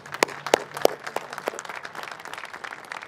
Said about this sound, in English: Let's get a round of applause for Michael Buffer, please.